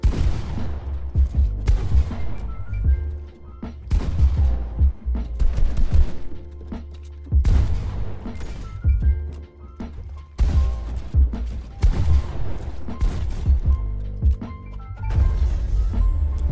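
Pump shotgun blasts and assault rifle bursts in a Fortnite ranked box fight ring out loudly in repeated volleys, sharp cracks clustered with short pauses between bursts and no talk.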